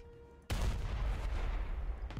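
Gunfire in the War Thunder video game: after near silence, a sudden heavy blast erupts and rumbles on with dense booming and crackling, then a second sharp report comes just before the end.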